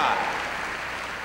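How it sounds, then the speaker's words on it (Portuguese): Church congregation giving an applause to the Lord, a steady wash of many hands clapping that starts strong and tapers slightly as it continues, with faint voices mixed in. "Pode dar um aplauso ao Senhor."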